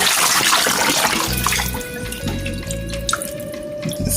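Tap water runs steadily into a sink while raw chicken is washed with white salt and vinegar for curry chicken, a continuous splashing rush with faint drips and handling noises and no talking.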